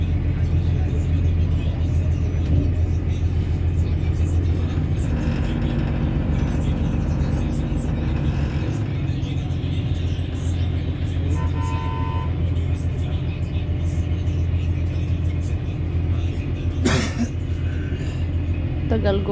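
Slow, congested car traffic with a steady low engine rumble from nearby vehicles and a brief horn toot near the end, while a person talks over it throughout.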